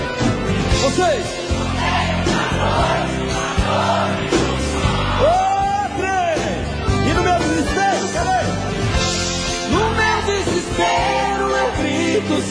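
A live concert audience of a Brazilian singer's show sings along loudly and shouts, crowd voices filling the whole stretch with whoops and yells over the music.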